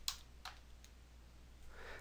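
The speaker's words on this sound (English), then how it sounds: "I'm going to type in the name of my colleague." Quiet clicking of keys on a computer keyboard, a few sparse taps spread over two seconds against a low steady room hum, with no voices.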